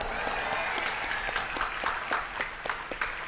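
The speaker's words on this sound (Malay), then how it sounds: "Tepuk tangan buat saya." An audience at an Isra Mi'raj school gathering applauds after a pantun recitation. A few distinct claps stand out in a loose, uneven rhythm over steady crowd murmur and room noise.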